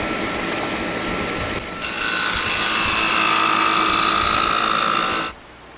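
A table saw fitted with a Craftsman adjustable wobble dado blade, model 3263, runs steadily with a whirring hum, then the pitch lifts into a louder, smooth spinning whine as the blade cuts before winding down.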